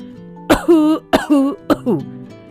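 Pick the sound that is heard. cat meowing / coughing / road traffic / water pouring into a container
coughing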